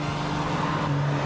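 A race car in a PJ Masks track-building racing game drives with a steady, continuous engine hum, loud and close throughout, with no talk over it.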